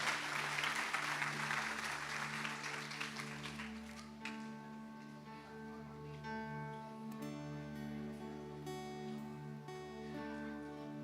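A church congregation claps in a steady, dense burst of applause that fades after a few seconds into sustained keyboard music, no voices heard.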